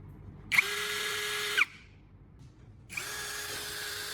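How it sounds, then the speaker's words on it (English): A power drill spinning a homemade knife sharpener attached to its chuck, propped on a wooden board, whines steadily for about a second, stops, then starts again and keeps running at a high, even pitch. "Attach the homemade tool to the drill chuck"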